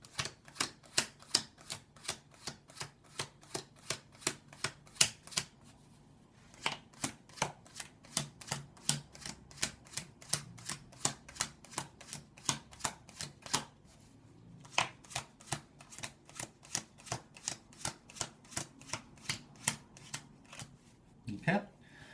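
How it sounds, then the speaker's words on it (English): Playing cards are dealt one by one into three piles for a card trick, each card landing with a crisp snap in a steady rapid rhythm, with two brief pauses between runs and a soft voice underneath. "What I'm going to do now is make 3 piles of cards."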